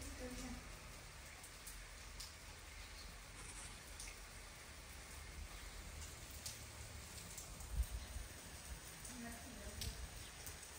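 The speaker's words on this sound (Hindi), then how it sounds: "जोरों की बारिश" Heavy downpour of rain, a steady broadband hiss of drops on surfaces that stays fairly quiet and even throughout, with a slightly stronger splash near the middle and no voices.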